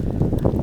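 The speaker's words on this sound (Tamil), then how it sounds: "காற்று பிச்சு பிடிங்கிட்டு போயிட்டுருக்குங்க" Strong wind buffets the microphone at the Ramakkalmedu viewpoint, a loud, steady low roar with gusty swells and no pause.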